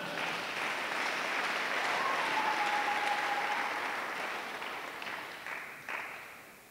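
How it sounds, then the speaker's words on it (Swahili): A church congregation claps at a regional leadership election gathering, a sustained, even wash of applause lasting several seconds before thinning out, with a few louder claps near the end and no talk over it. "Piga makofi kwa Bwana."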